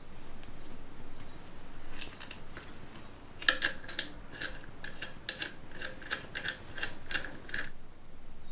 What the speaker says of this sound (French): Pour finir, je viens visser le connecteur.